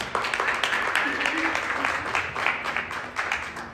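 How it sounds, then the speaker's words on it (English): Audience applause at an organization's members meeting, a steady wash of clapping from a seated crowd that holds at moderate loudness for several seconds, with faint voices mixed underneath. "Let's give them a round of applause as well."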